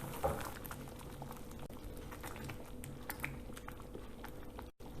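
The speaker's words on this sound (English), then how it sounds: "Boil it for a minute or two" Dal boils in a pot, a continuous close bubbling and gentle popping that holds steady throughout and briefly drops away just before the end.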